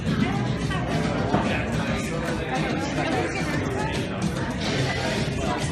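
Crowd chatter at a live show at the Bucket Shop: a dense, steady babble of many overlapping voices filling the room, loud and continuous with no single voice standing out.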